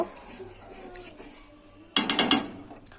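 A spoon scrapes and clinks against a pot while shukto vegetables are stirred, a short cluster of metallic knocks after a quieter stretch.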